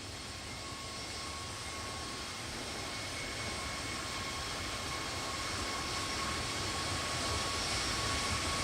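Airbus A320neo jet engines in the X-Plane 12 flight simulator give a steady, loud broadband roar with a faint high whine, holding constant throughout with no talking.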